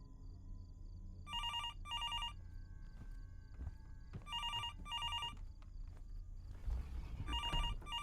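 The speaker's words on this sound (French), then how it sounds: "Je croyais qu'il fonctionnait pas le téléphone." An old-style telephone bell rings in bursts of two in the video game Fears to Fathom: Norwood Hitchhike, three clear ring pairs over quiet footsteps and low ambient rumble.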